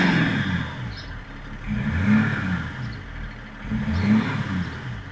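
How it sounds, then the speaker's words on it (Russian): BMW X5 engine revving in the medium throttle-response mode, a steady close engine drone that rises in repeated quick surges about every two seconds, with no talk over it. "Теперь включим средний. Набор оборотов более быстрый."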